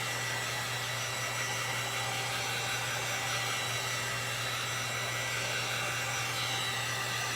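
A hair dryer blows a steady, constant whir at close range, drying a raised stencil on a twin bed, with no break or change for the whole stretch and no talking.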